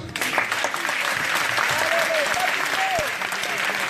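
A congregation claps steadily and loudly at a deliverance prayer service in Lyon, the dense applause running throughout with a voice calling out over it.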